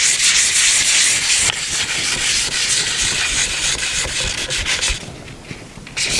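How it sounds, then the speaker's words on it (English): Wet sandpaper on the varnished wooden arm of a Parker Knoll chair, worked in circles, giving a continuous loud, close rasping rub that changes character briefly near the end. "the sandpaper's nice and wet, working in a circular motion"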